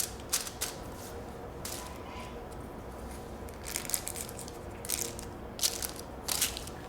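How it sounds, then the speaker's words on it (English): Small pieces of aluminium hair foil are torn off one after another while a hairline is foiled, giving irregular crisp crinkling tears in bursts over a quiet room. "So I like to tear my foils really tiny."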